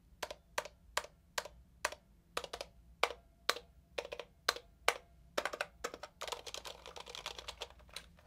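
Typing on a Miya Pro keyboard fitted with Cherry Silent switches: a steady run of close, crisp keystrokes at a moderate pace, speeding into a dense flurry near the end, with no talk.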